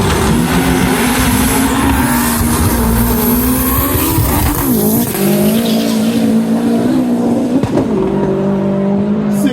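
Drag racing cars roar past with a loud, sustained engine drone and shifting pitch, tires squealing and skidding at full volume across the run.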